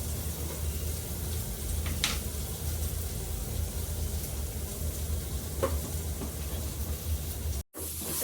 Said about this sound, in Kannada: ಕೊತ್ತಂಬರಿ ಸೊಪ್ಪು ಹಾಗೆ ಕ್ಯಾರೆಟ್ನ ಹಾಕೊಂಡು ಚೆನ್ನಾಗಿ ಫ್ರೈ ಮಾಡ್ತೀನಿ